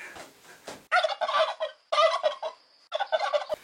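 A turkey gobbles three times, each a loud, close, rapid warbling burst lasting roughly half a second, separated by short pauses, with no voices.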